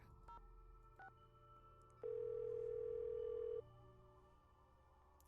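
In a Nancy Drew mystery video game, a telephone handset gives a steady, clear dial tone for about a second and a half, set between a few short keypad beeps and soft clicks in an otherwise quiet scene.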